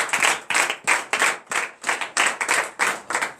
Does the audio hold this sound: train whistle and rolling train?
no